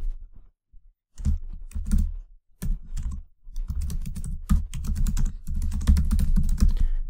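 Computer keyboard typing while editing a web page header, bursts of close, crisp key clicks separated by short pauses and speeding into denser runs.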